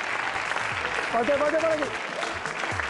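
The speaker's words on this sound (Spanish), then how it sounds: "un fuerte aplauso" An audience bursts into applause at a live show featuring music made with basketballs, a spread of clapping heard moderately loud behind a voice speaking over it.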